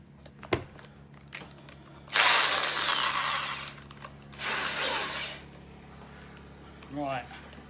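A power drill whirs in a garage while drilling pilot holes, two loud bursts of a few seconds each close to the mic, with brief clicks and a voice between.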